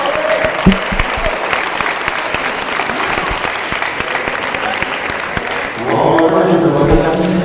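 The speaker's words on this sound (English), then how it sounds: "I'm actually going to stand up and give them a round of applause." Applause breaks out for two fighters after a grappling match at an ADCC jiu-jitsu event, steady clapping from a crowd that swells louder and denser toward the end.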